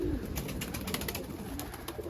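Pigeons kept by a fancier, Iraqi breeds housed in Germany, coo and bustle close by, with a steady rustling wash and soft repeated calls throughout.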